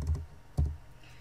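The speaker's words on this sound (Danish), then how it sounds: "så det taster vi ind" Keystrokes entering numbers on a computer keyboard, two separate clusters of soft clicks about half a second apart, close and fairly quiet, with no talking.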